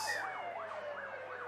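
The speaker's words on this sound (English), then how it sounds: "it was actually an ambulance siren. It was a different type of siren." An ambulance siren wails in a steady rising-and-falling sweep, repeating about every third of a second, heard at moderate distance during a rugby league grand final with no talk over it.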